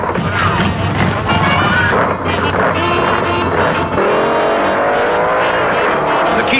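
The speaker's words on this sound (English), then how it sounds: "The Keystone car blows halfway down, and Denny puts the Ma and Pa Hoover through" Drag racing cars at the 1972 UDRA Spring Nationals, one car blowing its engine halfway down the strip; loud, continuous engine roar with rising and shifting tones across the whole run.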